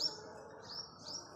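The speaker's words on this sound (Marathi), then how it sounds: "आणि पक्ष्यांचा चिवचिवाट ऐकू येत आहे." Small birds chirp in the early winter morning, with three faint, high tweets spaced across a short stretch over a quiet background hush.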